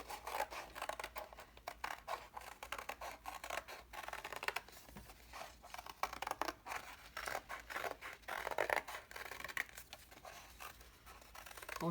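Scissors snipping a circle out of a lid, a quiet, close run of irregular cuts and rustling scrapes with no one talking.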